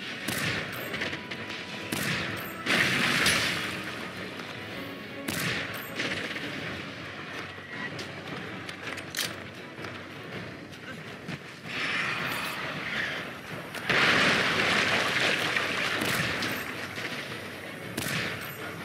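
Cannon fire in the video game Monster Hunter: World, rapid bursts of booming shots and clattering mechanisms coming in clusters, loud and close, with occasional faint talking.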